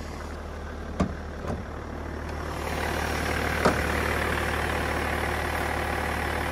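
A 2006 BMW E46 330Cd convertible with a 3-litre turbo engine idles steadily, a close, even low rumble with a few faint clicks early on and no talking.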